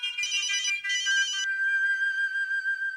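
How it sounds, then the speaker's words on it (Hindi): A phone rings with a bright electronic melodic ringtone, two quick trilling bursts followed by a sustained tonal phrase, clear and close, with no voices. "फोन बज रहा है।"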